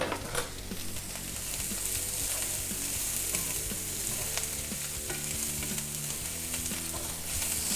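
Onions frying in butter while being stirred in a pan, a steady close sizzle with scraping and clinks of the utensil throughout, no talking.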